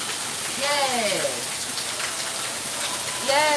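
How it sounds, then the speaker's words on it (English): Steady rain hisses without a break throughout, with fragments of a voice rising faintly over the downpour. "it's raining"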